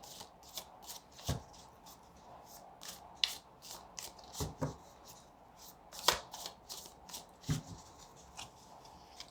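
Tarot cards being shuffled by hand at close range, a steady run of crisp riffling flutters and soft slaps with brief pauses between bursts, no talking.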